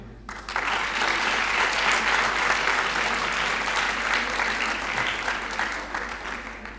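A crowd at a Basant Panchami celebration in a college claps steadily, loud and sustained for several seconds before tapering off.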